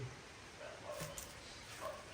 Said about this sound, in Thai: ได้ยินเสียงหมาเห่าเลยนะ